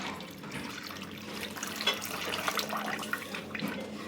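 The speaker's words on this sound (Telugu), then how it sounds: "ఇది ఫ్రై అయ్యే లోపల బియ్యం కడిగేస్తాను" Tap water running into a vessel while rice is rinsed in a home kitchen, a steady soft splashing stream with small irregular sloshes, fairly quiet and close.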